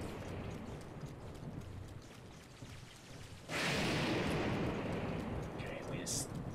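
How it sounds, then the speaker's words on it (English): Video game rain in Breath of the Wild suddenly pours down partway through, a loud steady hiss that follows a quieter stretch of softer rain. "Okay, also, it's raining!"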